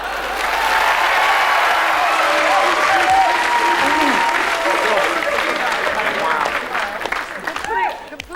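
A comedy and music benefit audience breaks into loud, dense applause mixed with crowd cheers, holding strong for most of the stretch before thinning out near the end.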